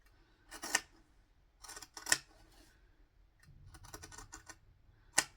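Scissors snipping through fabric during a sewing project, heard as a few short, sharp crisp cuts in separate bursts with quiet pauses between, fairly close and moderately loud, with no talking.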